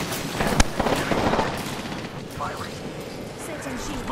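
Gunfire in the Apex Legends video game, a sharp shot near the start followed by rumbling combat noise, heard under ongoing talk from players.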